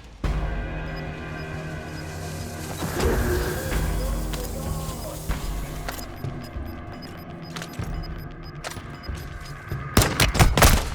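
Scattered gunshots and bursts in the battle royale shooter Warzone, mostly moderate and somewhat distant over a steady game ambience, with a louder flurry of close shots at the very end.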